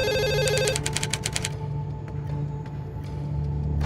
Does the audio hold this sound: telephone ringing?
yes